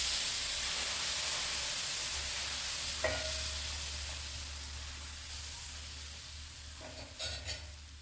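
Odappe batter sizzles on a hot griddle, a broad steady hiss up close with a low hum underneath, a couple of small clinks near the end, and no talking.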